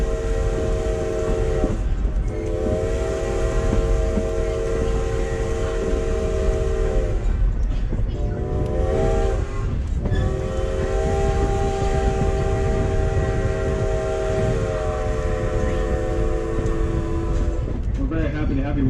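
Strasburg Rail Road steam train number 90 running, with a steady rumble and a sustained whistle blowing in several long blasts broken by short gaps.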